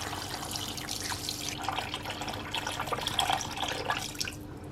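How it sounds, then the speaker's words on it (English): Water pours steadily into a pot over browned chicken thighs and carrots, a close, continuous splashing trickle with no talk. "and pour water over to cover."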